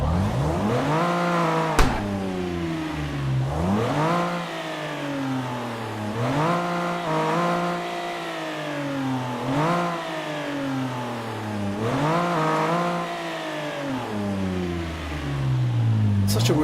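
A car engine in the CarX Drift Racing video game revs up and drops back again and again, five or six rising sweeps, loud and close, with a brief sharp click near the start.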